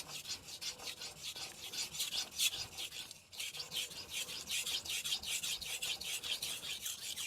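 Kitchen knife sharpened on a Morihei Hishiboshi 1000 grit whetstone, rhythmic rasping strokes in quick repeated passes with a short pause midway, close and fairly quiet.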